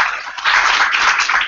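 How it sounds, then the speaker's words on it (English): A short burst of steady, dense clapping from a small crowd at a social media evening event, bright and even throughout without any voices. "Can we get a round of applause for Arthur?"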